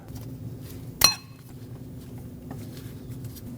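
A single sharp metallic clink as a new cotter pin on a Lexus IS250 tie rod is bent over, standing out loud against a low steady hum, with quiet faint knocks afterward.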